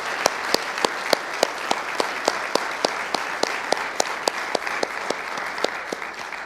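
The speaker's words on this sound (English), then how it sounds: "So can we give Ken a round of applause?" Audience applause fills a church hall after an organ concert, steady broadband clapping with sharp individual claps standing out at a regular beat, moderately loud and continuous, no talk over it.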